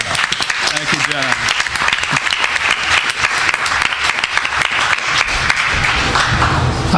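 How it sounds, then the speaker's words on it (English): An audience at a panel event on fighting big money in politics breaks into loud applause, many hands clapping densely while a voice briefly talks at the start and whoops rise through the steady clapping. "I think John deserves a big round of applause."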